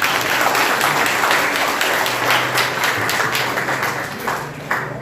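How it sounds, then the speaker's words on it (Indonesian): A school assembly audience of vocational high school students breaks into sustained applause, a dense wash of many hands clapping loudly throughout with a few sharper individual claps near the end. "Tepuk tangan semuanya"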